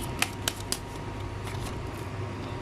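Tarot love cards are shuffled in short, crisp riffles, three distinct snaps early on followed by softer card rustling over a low steady background hum.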